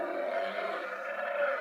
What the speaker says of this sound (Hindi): टाइगर।